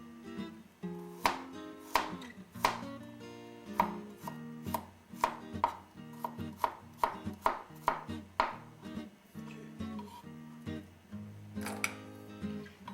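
A knife roughly slices garlic on a cutting board in a series of crisp, evenly paced thuds, some quick and clustered, over a faint steady background tone.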